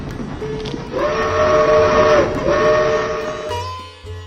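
A loud, sustained whistle-like tone with steady harmonics holds for a couple of seconds over a rumbling background, then a lower tone sets in near the end.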